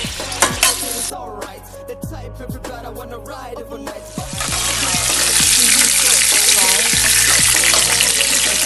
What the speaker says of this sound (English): Oil in the pan, then I fry my prawns and sausage.